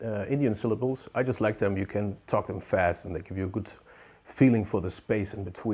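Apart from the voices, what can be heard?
None of the usual background noises is heard.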